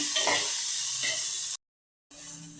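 Bottle gourd pieces with turmeric and salt are stirred in hot oil, giving a loud close hissing sizzle with scraping strokes that cuts out briefly and then resumes.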